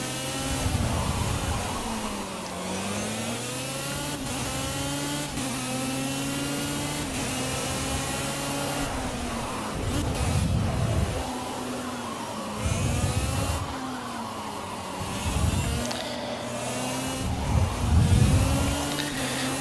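A race car engine drones loudly and continuously in the Project Cars racing game on PC, its pitch rising and falling with gear changes and periodic surges of revving.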